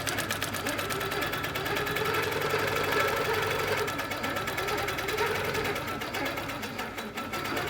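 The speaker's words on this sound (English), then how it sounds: "We're going to start stitching." Sewing machine stitching a wholecloth quilt, a steady fast mechanical whir and needle chatter running continuously at close range with no pauses.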